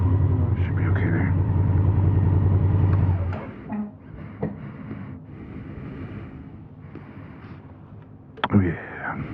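A 2019 Honda Africa Twin motorcycle engine runs inside a garage, a steady low rumble for about three seconds that then fades under someone talking.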